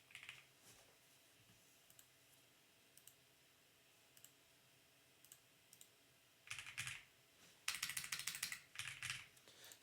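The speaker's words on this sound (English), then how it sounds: "let's type it in." Keystrokes on a computer keyboard, quiet scattered single taps at first, then denser bursts of rapid typing near the end, close and fairly soft.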